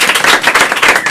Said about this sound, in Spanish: vamos a pedir un fuerte aplauso a los 500 fans de ellos que hay aquí ahora mismo